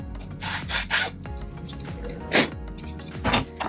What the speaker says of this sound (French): vous repassez un petit coup de lime jusqu'au moment où c'est bon